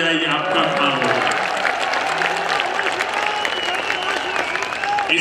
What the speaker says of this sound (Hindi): ताली बजाइए, आपका काम होगा।